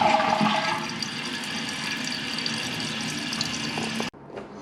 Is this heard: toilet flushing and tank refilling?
yes